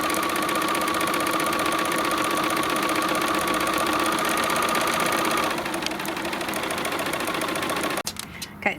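A sewing machine runs a long basting stitch around a round pillow, a steady continuous whir that eases slightly near the end and stops abruptly, followed by a few faint handling clicks.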